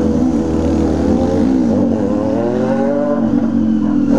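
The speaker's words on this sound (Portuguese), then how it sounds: "De carro aí, ó, acelerando em cima dos outros" A car revving and accelerating on a hillside street, a loud continuous engine drone whose pitch rises and wavers over about four seconds, with no talk.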